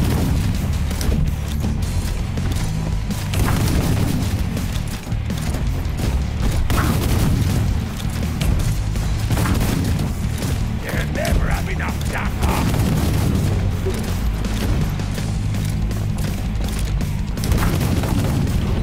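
Heavy gunfire from a weapon in the game Warhammer 40000: Shootas, Blood & Teef, booming shots in a dense, continuous barrage lasting throughout, loud and layered with other game effects and a voice talking over it.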